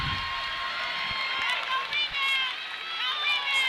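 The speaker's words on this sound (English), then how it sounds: "the crowd is really into this" A crowd in a gym at a girls high school basketball game cheers and shouts continuously, with high-pitched voices swelling and dipping, and sneaker squeaks and bouncing balls underneath.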